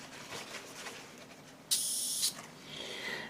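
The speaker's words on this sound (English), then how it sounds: "I'm in the middle of cleaning up this airbrush." A model-painting airbrush sprays while being cleaned, giving one loud, steady hiss of about half a second that cuts off sharply, followed by a softer, fainter hiss.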